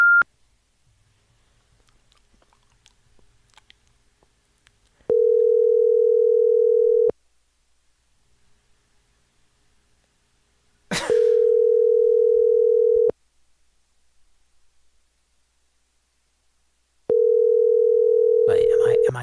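A telephone voicemail system plays a steady tone in three long bursts, each about two seconds, with silent gaps between them, loud and clean, as a call connects.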